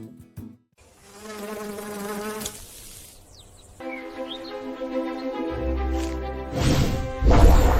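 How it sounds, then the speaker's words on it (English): A massive swarm of locusts fills the air over Nebraska with a dense, continuous insect buzz that swells and thickens, growing louder toward the end, with no voices present. "a massive swarm of locusts covering the skies above Nebraska"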